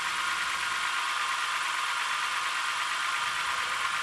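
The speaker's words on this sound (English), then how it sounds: "the microphone managed to pick up a fair bit of valve tick noise" A BMW E90 325i's N52 engine idles with a constant, bright valve lifter ticking layered over a steady hum, close up and unbroken for the whole stretch.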